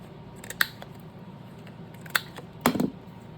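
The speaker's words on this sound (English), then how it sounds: "And I'm going to cut the corners off." Scissors snip the corners off a piece of paper, making a few quiet, crisp cuts close by, with the last one a slightly longer crunchy snip.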